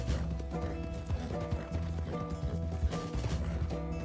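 Horse hooves clip-clopping in Red Dead Redemption 2, a steady run of close hoof beats over a busy bed of game sound with faint tack jingle.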